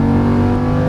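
Lamborghini Huracan LP610-4 engine under hard acceleration, a loud, close, steady droning roar for under a second with no voices.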